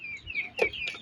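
Chickens and chicks cluck and peep in a brief, close burst of a few short calls, with a high thin chirping line running underneath.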